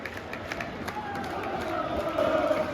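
Football crowd at a Plymouth Argyle home match against Norwich roaring and cheering steadily, a dense continuous din with chanting voices rising slightly toward the end.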